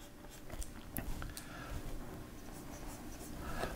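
A pencil scratches across paper while drawing a nose, with a continuous close scratching and a few light taps, and no speech.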